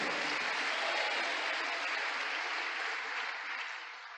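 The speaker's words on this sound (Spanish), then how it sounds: "Un aplauso a los que creemos eso." Church congregation applauding during a sermon, a smooth, wide wash of many clapping hands, fairly faint and distant, holding steady before tapering off near the end.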